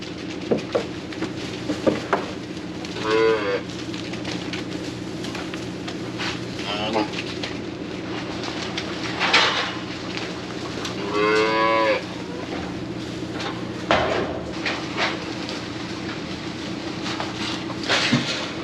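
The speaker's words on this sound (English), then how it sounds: "this does seem like a lot of cows for this small area" Cows moo repeatedly in a crowded farm pen, loud drawn-out calls from nearby over a constant background hum, with people talking at times.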